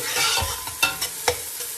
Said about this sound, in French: Je vais bien mélanger le tout.